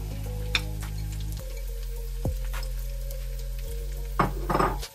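Garlic sizzling in hot oil in a pan during spaghetti preparation, a steady close frying hiss with a few utensil clinks and stirring scrapes, no talk.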